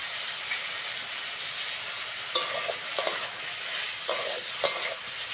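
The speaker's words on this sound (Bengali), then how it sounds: "আদা রসুনের কাঁচা গন্ধ না যাওয়া পর্যন্ত নাড়তে হবে।" Ginger garlic paste fries in a pan, a continuous close sizzling hiss broken by several sharp scrapes and knocks of a spatula stirring against the metal.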